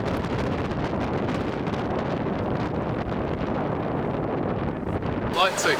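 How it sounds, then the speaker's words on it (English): Strong coastal wind buffeting a boat off British Columbia's coast, a loud continuous roar of wind noise across the microphone, with a person speaking briefly near the end. "it's gotten really quite windy"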